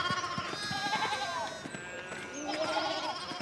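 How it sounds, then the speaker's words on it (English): Sheep bleat repeatedly in a video game, several wavering calls overlapping and trailing off, fairly close, with a faint low background rumble and some soft thuds. "Get on my way, sheep."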